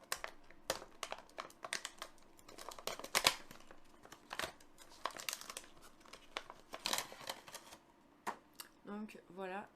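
Plastic packaging around LED lights crackles and crinkles as it is torn open, producing close, irregular crumpling bursts and rustles, with a voice speaking briefly near the end.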